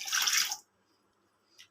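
Cold water pours in a brief, splashy rush over curdled milk for rasmalai, then cuts off into near silence before a single faint drip lands a moment later.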